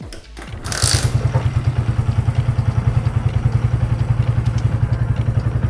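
A motorcycle engine, the bike being checked for a low charging voltage from its regulator-rectifier, catches and holds at a raised rev near 3000 rpm. Its steady, fast, pulsing exhaust beat is loud and close and runs throughout without talk.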